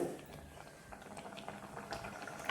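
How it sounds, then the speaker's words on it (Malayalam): Kerala-style tomato pachadi bubbling in a pan on a gas stove, a faint, close, steady simmer of small pops and gurgles over a couple of seconds, no talk. "ഇതൊന്ന് തിളച്ചിട്ട് അതിൻ്റെ പച്ചമണം പോട്ടെ"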